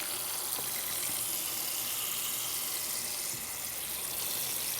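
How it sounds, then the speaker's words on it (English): Water poured into a plant bottom-watering tray at an allotment, a steady close rushing gush that runs unbroken throughout without speech. "just put some water in it"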